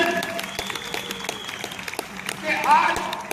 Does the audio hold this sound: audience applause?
yes